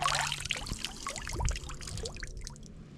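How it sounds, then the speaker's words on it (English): Water trickles and gurgles as it is poured through a bandana into a Gatorade bottle on the Florida Trail, a close, uneven stream with bubbling glugs and drips over about three seconds. "just poured it right here into this Gatorade bottle"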